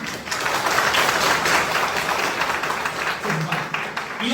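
An audience applauds at a National Science Day celebration in Morigaon, with a dense, steady wash of clapping that lasts throughout and a faint voice underneath.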